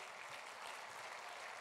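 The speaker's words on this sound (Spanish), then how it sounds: "aplausos para Él" Congregation applause in a church service, a steady wash of clapping filling the room throughout, moderately loud and continuous with no voices on top.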